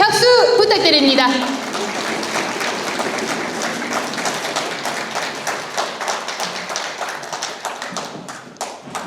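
Welcoming applause at a Korean commemorative award ceremony for a ministerial address, a steady crowd of hands clapping that rises after a brief spoken introduction and continues loud and dense, tapering slightly toward the end.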